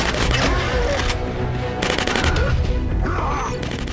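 Gunfire from the first-person shooter Killzone Mercenary: continuous, loud, dense shooting with clattering impacts throughout a chaotic firefight.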